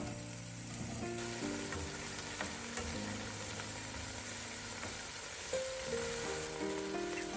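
Chicken and potatoes sizzling together in hot oil for chicken and vegetable fried rice, a steady, quiet frying crackle with light stirring noises and a faint background hum.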